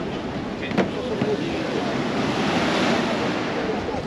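Ocean surf washing onto a beach on Sal, Cape Verde, a steady broad roar of breaking waves mixed with wind buffeting the microphone.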